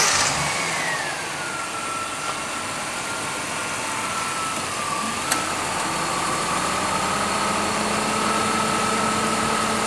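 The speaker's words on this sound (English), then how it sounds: "We're going to start it up as before, turn the AC on at an idle" Ford Taurus engine idling steadily with the AC on after a new alternator, a fairly quiet, even hum with a faint whine drifting down in pitch and a brief click partway through.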